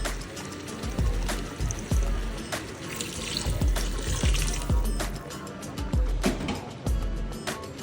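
Water, about two to two and a half glasses, pours steadily into a pan of sautéed tomatoes for an aloo matar anda curry. The gushing, splashing flow runs continuously for several seconds with rhythmic sloshing and no talking.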